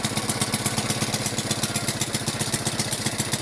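A Delta moped engine running just after a stubborn start, a steady fast thumping putter heard close and fairly loud with no talk over it.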